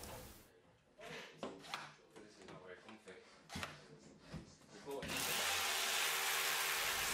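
A power drill drives screws through wall plugs to fix blind brackets to a wall, with short close bursts and rattling handling, then a steady loud whirr near the end, while a voice talks.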